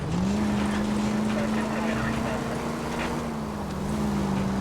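Car engine in the video game L.A. Noire holds a steady, loud drone with a sustained low tone throughout, slight pitch rises and dips as the car drives.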